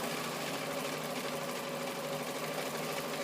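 A sewing machine stitches channel-stitched fabric with a steady, fast mechanical whir and a constant hum, close and alone at a moderate level.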